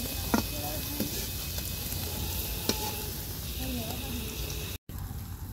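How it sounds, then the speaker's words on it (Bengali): Semolina and egg pitha fries in hot oil in a pan, a steady soft sizzle with a few scattered clicks and taps, then a brief dropout near the end. "পিঠাটা কিন্তু একদম লাল লাল করে ভাজা হয়ে গিয়েছে"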